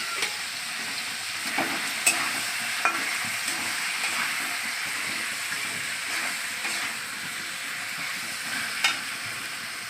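Chicken fries in a pan with cumin, coriander and salt, a steady bright sizzle with occasional stirring scrapes and pops, close and continuous with no talk.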